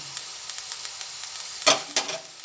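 Peas and capsicum fry together in a wok for fried rice, giving a soft, steady sizzle. Two sharp bursts of louder crackle and stirring come near the end, with no voices.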